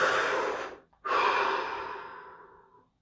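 One deep breath taken close up, a strong inhale, a brief pause, then a long slow exhale fading away into silence.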